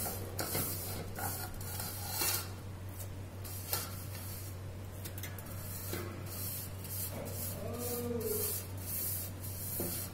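Oil being stirred and mixed by hand into mango pickle on a large plate, a soft continuous wet rubbing and squelching with scattered light clicks, close and fairly quiet against a steady low hum.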